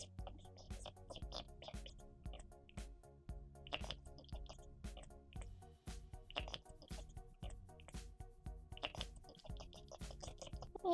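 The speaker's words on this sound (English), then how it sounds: "Splashing all over my face." A cat drinks water, and close, soft drips and wet splashes patter irregularly for several seconds against a quiet background.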